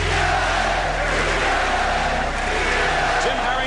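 A Boston basketball crowd packs the arena with a dense, continuous roar of chanting, loud and unbroken throughout with no distinct individual voices.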